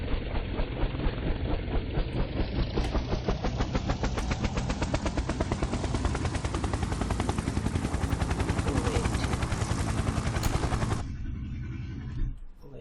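A simulated helicopter in an Unreal Engine demo gives a loud, steady engine roar with rhythmic rotor chop, its whine climbing in pitch before cutting off abruptly near the end.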